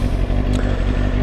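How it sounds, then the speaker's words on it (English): A 2006 Kawasaki ZZR motorcycle engine runs loud and close in a brief, steady rumble with a little mechanical clatter. "2006 Kawasaki ZZR"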